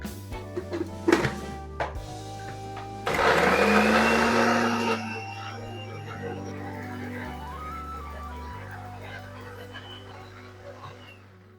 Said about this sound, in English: So you're just gonna blend this.